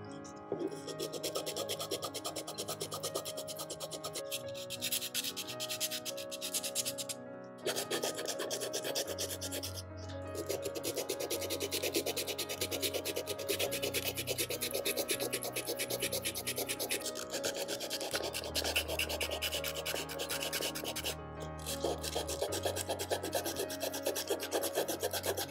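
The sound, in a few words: sanding a doll with sandpaper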